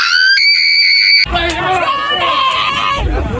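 A loud, sustained high-pitched scream cuts off abruptly and gives way to agitated shouting and babble from several voices.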